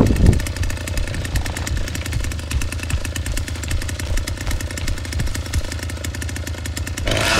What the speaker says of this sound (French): Arrêtez la tronçonneuse.